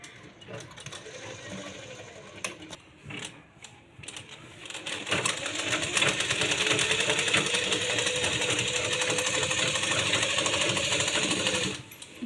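A sewing machine runs a continuous buzzing stitch across a baby's bunny cap, with a few short start-and-stop bursts before a long steady run that ends abruptly.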